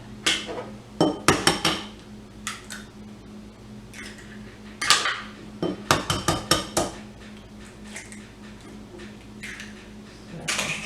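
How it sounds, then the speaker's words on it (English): Four eggs cracked on a bowl rim and beaten for strawberry bread, several sharp taps and clinks of shell and utensil against a bowl in clusters, with quieter stretches between. "I'm going to go ahead and crack my 4 eggs because I want to beat those up"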